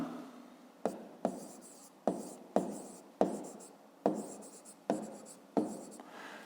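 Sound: writing a math exercise by hand

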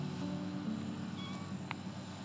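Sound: cat meowing, gray tabby among a colony of cats

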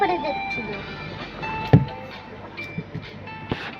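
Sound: amusement park train running

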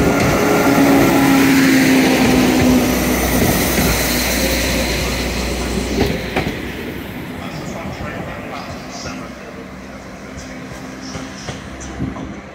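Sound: Transport for Wales class 197 train leaving station

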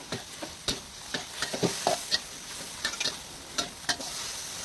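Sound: stir-frying drunken wide rice noodles on high heat

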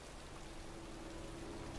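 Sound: pouring rain in a cemetery in Heavy Rain video game

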